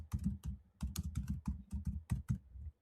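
Quick bursts of computer keyboard typing while entering a task name in a project app, a rapid cluster of close, crisp key clicks in short irregular runs, quiet and alone.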